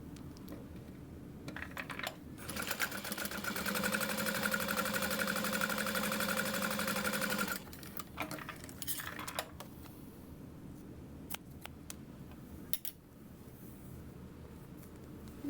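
A sewing machine runs a steady burst of quarter-inch top stitching in hot pink thread on a wristlet, a close rapid mechanical whir for several seconds, framed by scattered clicks and handling noises before and after.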